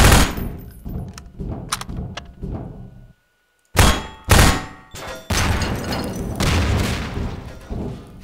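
Heavy gunfire bursts in Half-Life 2: Episode One, rapid shots in clusters, a brief silence, then two loud booms and sustained rattling fire.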